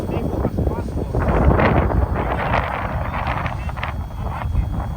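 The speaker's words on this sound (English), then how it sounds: "I don't know if you can hear the video, but it's pretty windy." Steady wind buffeting the microphone outdoors near a hovering 1:27-scale RC OH-58 Kiowa helicopter, a continuous low rumble with gusty swells and a faint mechanical hum underneath.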